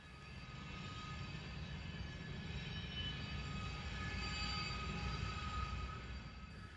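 A General Electric AC4400CW freight locomotive built in 1996 rolls past on a former C&O line in Ohio. A steady, loud rumble of wheels and cars carries high squealing tones throughout, and no one speaks.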